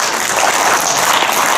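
Steady, dense applause from an audience at a Korean traditional archery referees' training seminar, a continuous wash of many hands clapping without pause, fairly loud and close throughout.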